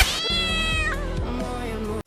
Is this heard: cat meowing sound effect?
yes